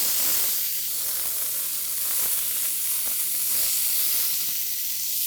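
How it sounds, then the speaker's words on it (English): Korean-style short ribs sear in a smoking cast iron pan, giving a loud, continuous crackling sizzle and hiss that holds steady throughout with no voices. "Have your pan smoking, your nice cast iron pan smoking."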